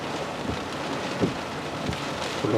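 Tropical Storm Isaias batters Ocean City, Maryland with a steady, dense roar of wind and heavy rain, broken by a few brief thumps and gusts near the microphone.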